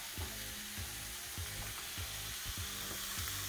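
Onions and carrots fry steadily in a hot pan, a continuous sizzle broken by regular scraping strokes of stirring about twice a second, close and moderately loud with no voices.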